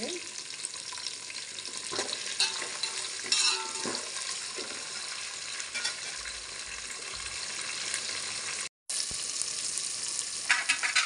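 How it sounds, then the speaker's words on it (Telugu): Onions sizzle and crackle steadily in a hot pan as they fry until reddish-brown, with occasional scraping stirs and a brief break near the end. "ఉల్లిపాయలు బాగా ఎర్రగా వేగిపోయినాయి"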